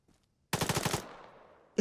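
Automatic gunfire in Arma 3 aimed at a Harrier jet: a short, loud burst of rapid shots that fades into a decaying echo, then a sharp new sound right at the end.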